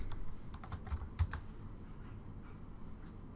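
Login details typed on a computer keyboard, a quick run of light clicking keystrokes in short bursts, fairly quiet and close, with no voices.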